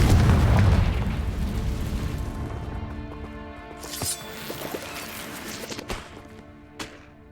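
A Confringo fire spell explodes in Hogwarts Legacy: a loud, deep boom opens and rolls off into a long fading rumble, followed by scattered smaller pops and crackles, with no voices.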